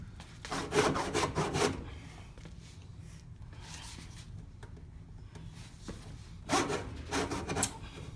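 A hand saw cuts a rabbet into wood in bursts of steady back-and-forth rasping strokes, loud at the start and again near the end with a quieter scraping stretch between.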